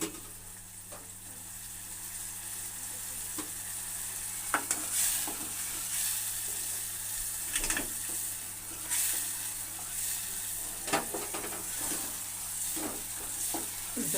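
Puliyogare mixture seasoned with salt and turmeric cooks in a pan, giving a steady close sizzle with intermittent scraping stirs and clinks throughout.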